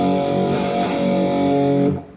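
A distorted electric guitar plays a riff, with palm-muted root notes between down-up chord strums. It rings out loud and sustained for about two seconds, then the chord decays.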